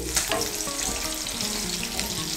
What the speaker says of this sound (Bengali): আঁচটাকে মিডিয়াম করে পটলগুলোকে ভালো করে ভেজে নেব।